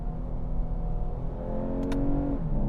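The engine of a 2024 Lexus IS300 F-Sport hums steadily from inside the cabin as the transmission hesitates through a downshift, and the drone rises slightly near the end with a brief faint higher tone.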